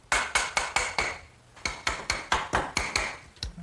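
Quick metallic taps driving a garden swing hanging section onto an eye bolt, two runs of evenly spaced sharp strikes, about six each, separated by a short pause.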